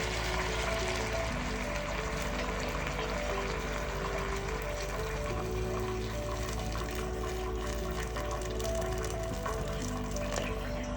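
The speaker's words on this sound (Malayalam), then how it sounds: "ഇനി നമുക്ക് കുറച്ചുകൂടി വെള്ളം ഇതിനകത്ത് ഒഴിച്ചു കൊടുക്കണം" A steady stream of water pours into a pot of chicken for majboos for a long stretch, a constant close rushing fill sound with faint background noise.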